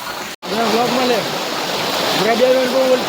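Floodwater rushing through a village in Surendranagar, Saurashtra, a steady broadband roar of moving water with a brief gap near the start, while voices talk over it.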